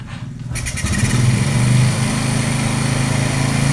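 A Honda Supra 125 motorcycle with a carburetor that stalls unless choked is kick-started and catches, then runs in a steady, close, buzzing idle at a fairly high rpm.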